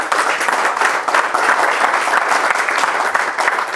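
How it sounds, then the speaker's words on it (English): Audience applause fills a Startup Grind event in Nakuru County, a dense, steady clapping from a room of people that stays loud and continuous throughout with no talk over it. "Please give her a round of applause."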